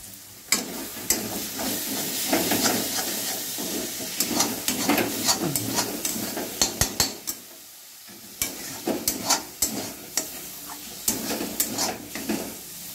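Loitta (Bombay duck) fish with fenugreek powder and ground black cumin is stirred in a sizzling pan. Close, loud scrapes and clatters fall in quick uneven bursts over a steady frying hiss, with one brief lull midway.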